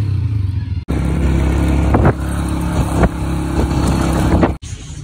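Motorcycle ride to a pet market, with a steady close engine drone and road rumble, a few brief revving surges and clattering bumps, and abrupt cuts at both ends.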